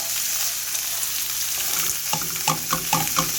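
Ground pork fries in a pan for tourtière, a loud, continuous close sizzle, with a spoon breaking up the meat in a run of rhythmic scraping taps toward the end.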